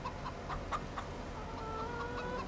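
Chickens clucking in Farming Simulator 25, a series of short, evenly spaced clucks over a steady low background drone, moderately loud and with no talking.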